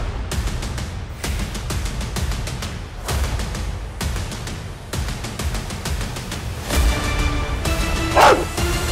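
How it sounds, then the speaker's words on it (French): Aggressive Rottweiler barking repeatedly and loudly up close, sharp bow-wow barks in a steady rapid series with brief yips and whimpers toward the end, no one talking. "on arrive chez Christophe et Aurore pour un problème d'agressivité sur un Rottweiler"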